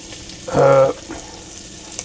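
A short burst of bacon lardons hitting a hot pan for a rustic country-style jambalaya, a loud sizzle swelling for about half a second and then dying back to a faint background crackle.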